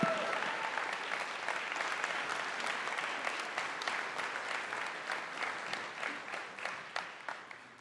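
An audience at a single-parent scholarship fund event applauds a community partner award recipient, a continuous soft wash of many hands clapping that holds steady and fades slightly toward the end.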